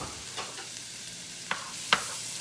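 Chopped onion frying in butter in a pan on the stove: a steady, close sizzle with a few brief scraping stirs and small pops, no talking.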